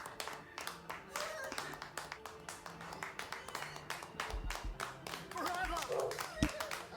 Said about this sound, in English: they're clapping harder